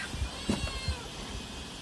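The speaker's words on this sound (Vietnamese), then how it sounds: "Con mèo á." Faint, short meowing from a cat at a rural hillside hut, heard over a low background hum with a few soft knocks and no speech.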